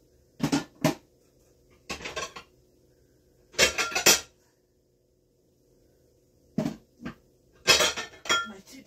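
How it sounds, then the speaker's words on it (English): Dishes and cutlery clatter as a dish is taken out in a home kitchen, several sharp clanking bursts separated by quiet gaps, close and fairly loud. "I'm going to get my dish out here."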